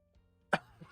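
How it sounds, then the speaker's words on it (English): A single sharp cough close by, one short burst that fades quickly into a quiet room. "So I've had this cough for a couple weeks now"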